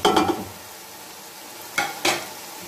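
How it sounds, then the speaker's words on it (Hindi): Spices being fried and stirred in a pan for restaurant-style chicken pulao, with a low steady sizzle broken by two or three brisk scraping stir strokes. "और मसाले को अच्छी तरह भूनना है"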